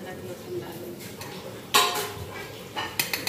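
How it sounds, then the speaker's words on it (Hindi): Ginger and garlic go into a pan of browned onions on a stove, bringing a sudden loud clatter followed by a few sharp metallic clinks of a spoon against the pan over quiet kitchen background. "अभी मैं इसमें अदरक लहसुन डाल रही हूँ, प्याज हमारे ब्राउन हो चुके हैं"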